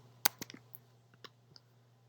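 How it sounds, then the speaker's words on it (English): Mouse clicks on a spreadsheet cell, a handful of sharp, close, quiet clicks spread unevenly over two seconds above a steady low hum. "I'm just clicking on the A2 cell, I'm not typing A2"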